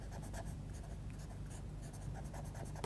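A small paper stump rubs and pushes drawing pigment into paper, a close, steady scratchy scrubbing with quick repeated strokes.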